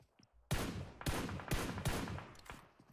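Heavy gunfire from a battle royale esports match comes in four or five loud, closely spaced bursts of rapid shots, each decaying quickly, after a brief quiet start.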